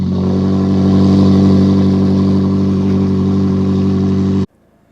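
A McLaren 570S Spider supercar engine starts up and holds a loud, deep, steady rumble with a throaty exhaust burble for over four seconds, then cuts off abruptly into near silence.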